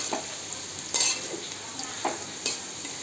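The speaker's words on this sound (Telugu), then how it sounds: "ఇలా వేగాలండి, మూత పెట్టుకోకుండా వేయించుకోవాలి" Food fries uncovered in an open pan with a steady sizzle, broken by a few brief scrapes of stirring; no voices.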